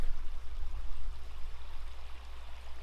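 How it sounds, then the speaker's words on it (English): Steady, soft rushing of a flowing creek, continuous broadband water noise with no voices. "the creek sound good"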